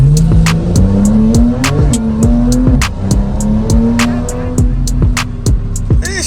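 Tuned Porsche 911 Carrera T of the 992 generation accelerating hard, its engine climbing through repeated rising revs with sharp pops and crackles on each shift, loud and close.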